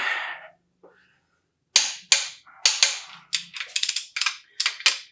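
Bolts on an LS 5.3 engine crankshaft being tightened with a ratchet: a burst of clicking, then about a dozen sharp, close ratchet strokes in quickening succession, with no speech.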